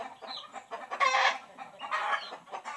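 Pet chickens cluck and squawk inside a net enclosure, a few loud excited calls rising among softer clucking, close by, with no talking.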